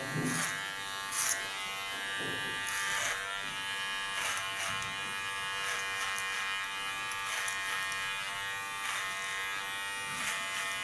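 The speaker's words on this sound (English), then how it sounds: "guide the hairs in the right position into the clipper" Electric hair clipper buzzing steadily while cutting an ultra-short pixie haircut, a continuous close hum with brief changes in tone as the blades pass through hair.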